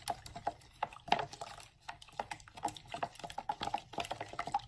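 Plaster of Paris is stirred into cool water in a cup, giving quiet, irregular wet clicks and taps from the mixing, close and soft with a faint low hum underneath.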